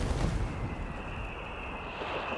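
Artillery shells fire in Company of Heroes 3, giving a fairly faint, muffled boom that rolls off into a rumbling tail with a faint whine on top, with no talking over it.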